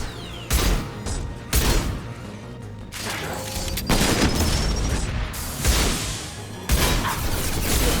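Shotgun blasts in Mass Effect 2, several heavy booming shots spaced a second or two apart amid ongoing combat noise, loud and close.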